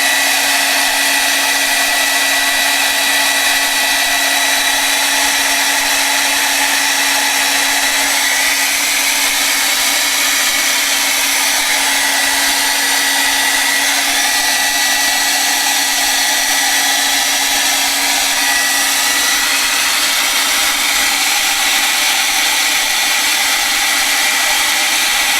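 A hair dryer blows steadily and loudly to set ink on an art journal page, a constant close airy roar with no break throughout.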